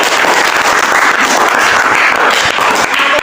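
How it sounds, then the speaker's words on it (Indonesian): Classroom applause for a student, a steady dense wash of many hands clapping close by and fairly loud throughout, with no clear voices over it. "kita tepuk tangan untuk Kusum"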